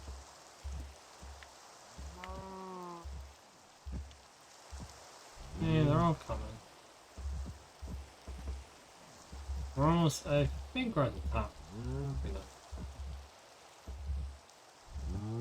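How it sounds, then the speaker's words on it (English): Rain pattering steadily in a block-building video game, a soft constant hiss under quick rhythmic in-game thumps and clicks, while a person talks intermittently over it. "It's raining too."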